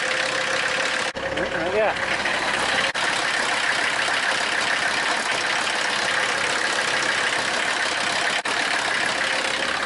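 An old Mercedes car engine idles steadily and fairly loudly up close, a continuous even drone with a short whine near the start, while a person says a brief word over it.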